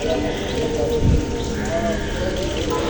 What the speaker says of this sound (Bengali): আবার বৃষ্টিও পড়ে ঝুড়ি ঝুড়ি